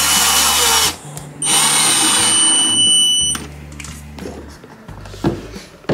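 Power drill driving screws partway to hold a Vivo MOUNT-V201A monitor wall mount bracket flat against a wall, two loud whirring bursts with a brief pause between and a quieter tail afterward.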